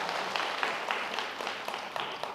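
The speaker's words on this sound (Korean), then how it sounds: "박수 쳐주고 선물 하나 갖다 주세요." Indoor audience applause at a public event, steady broadband clapping from many hands sustained throughout, moderately loud with no talk over it.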